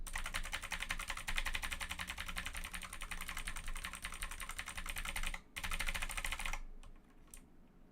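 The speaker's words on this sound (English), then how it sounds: "You're like tuning in just for keyboard ASMR." Rapid, steady computer keyboard typing, close and fairly loud, runs continuously with no voices, pausing briefly near the end before a few scattered final keystrokes.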